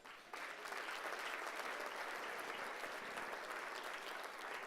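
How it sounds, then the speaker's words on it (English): Sustained applause from a luncheon audience of Illinois graduates in Chicago, steady and full-bodied from start to finish. "I think you need to give yourselves a round of applause"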